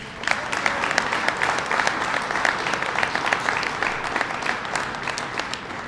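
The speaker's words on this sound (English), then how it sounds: "let's give them a round of applause" An audience at a Ford Motor Company investment announcement gives a sustained round of applause, dense and even clapping throughout at moderate volume.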